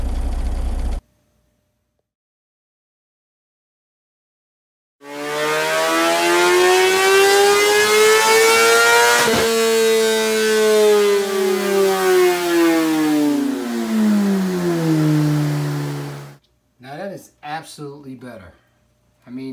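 Kawasaki ZX10R drag bike with a full titanium Akrapovic exhaust system, a short burst then a long loud rev that climbs, holds and falls away over about ten seconds, followed by a few sharp blips.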